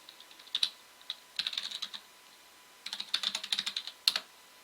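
Someone signs in by typing on a computer keyboard, producing quick clusters of close, crisp key clicks separated by short pauses.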